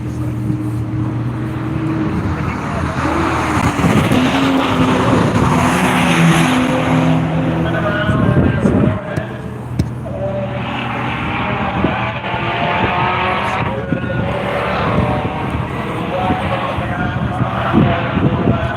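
Loud race cars roar past at World Wide Technology Raceway, their engines droning steadily and heavily for the whole stretch, with a voice talking faintly in the background.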